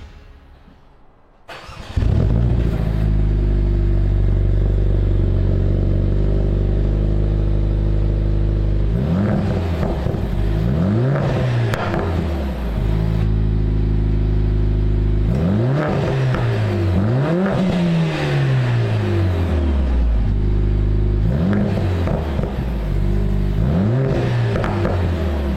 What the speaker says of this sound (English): now let's hear the first startup of the modified exhaust